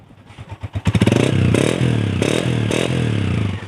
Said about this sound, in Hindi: इसके बाद होंडा 125, सबसे पहले सुने साउंड, बाइक खड़ी स्टार्ट